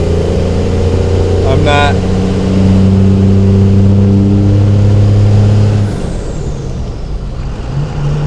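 A loaded truck pulling a trailer drives along with a loud, steady engine drone, then the tone drops and eases off near the end as the engine settles.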